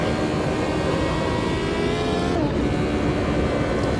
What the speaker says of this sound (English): Amazing engine sound effects as well here, getting from this classic car